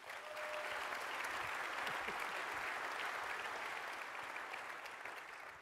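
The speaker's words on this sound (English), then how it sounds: "An applause, please." Audience applause at an engineering design conference welcoming panel speakers onstage, a broad, even wash of clapping rising quickly and holding steady, fairly quiet and distant, with no talk over it.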